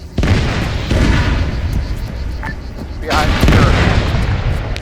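A T-72 tank takes a hit and explodes in heavy, loud booms with rumbling blasts, while voices talk over the combat noise.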